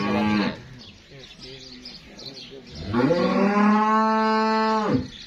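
A Jersey Friesian cross cow in Pakistan moos loudly and close by: a short low call, a quieter stretch, then a long sustained moo that ends abruptly.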